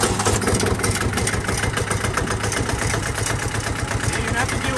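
A Yanmar diesel engine runs close and loud, with a rough, rapid knocking idle throbbing steadily throughout.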